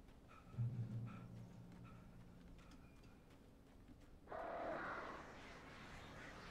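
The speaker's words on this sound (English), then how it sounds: "Birds." Birds in the video game Alan Wake caw faintly against a steady low ambient hum, with a few scattered calls early and a louder burst of cawing near the end.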